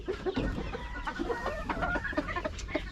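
Chickens cluck steadily inside a farm coop where eggs are being collected, with overlapping close and mid-distance calls in an uneven, busy rhythm and no talking.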